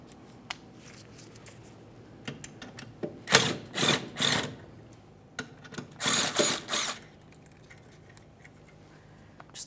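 Bursts of rapid mechanical ratcheting from a tool working a mounting bolt under a 2008-2017 Mitsubishi Lancer 2.4L, in two clusters of short runs, close and fairly loud against a quiet background.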